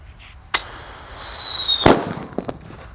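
A Black Buster firecracker goes off inside a water gallon. A bright fizzing whistle from the fuse lasts over a second, then one loud, sharp bang follows, with brief rattling afterward.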